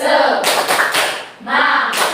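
Students in a classroom clap together in a rhythmic group clap, loud close bursts of hand claps with a short pause midway before the clapping resumes.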